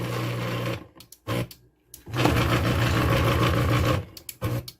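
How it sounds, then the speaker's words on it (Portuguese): A PPA gate opener motor on a dual control board under repair runs in loud, steady bursts, starting and stopping several times with brief clicks and pauses between runs. "Acendeu a lâmpada e tentou acionar o motor."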